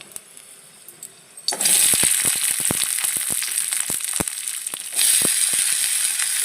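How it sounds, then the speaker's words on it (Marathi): Sliced capsicum and onion drop into hot oil, setting off a sudden loud sizzle after a quiet start, with spatula scrapes and clinks as the pieces are stirred and a fresh burst of sizzling toward the end. "त्यामध्ये आपण हे जे काप केलेले आहेत कॅप्सिकम आणि अनियनचे ते घालायचे, थोडेसे फ्राय करून घ्यायचे"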